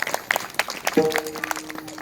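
An audience at a comedy kirtan in Nimkarda claps in a short, loose burst of scattered handclaps, with a brief tonal sound cutting through the middle.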